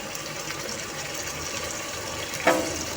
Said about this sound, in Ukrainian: Наливаю воду, в якій мочилися гриби.